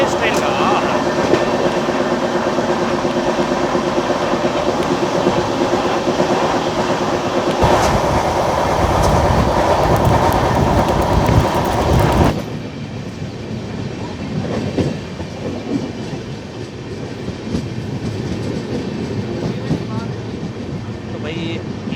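Okha Nathdwara Express 19575 running on rails, a steady loud rumble of wheels and carriage noise that shifts to a softer, thinner roar partway through, with no talk over it.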